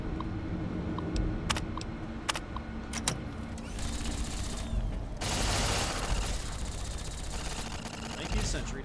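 Sentry turrets in Fallout: New Vegas fire in short, sharp bursts of rapid clicks and cracks, followed by a longer stretch of dense, steady gunfire beneath a low game hum.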